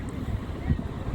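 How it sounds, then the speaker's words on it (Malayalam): Water of the Rhine Falls in Switzerland rushing and churning in the river below, with tourist boats nearby; a steady, loud low roar with wind buffeting the microphone, no talk. "ഇതിൽ നിന്നുള്ള വെള്ളം ശക്തിയായിട്ട് ഒഴുകി നീങ്ങുന്നു"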